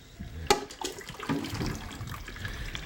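Mashed chokecherries drain through a strainer, a wet liquid pouring and trickling sound with a sharp clink near the start and light splashing throughout, close and fairly quiet.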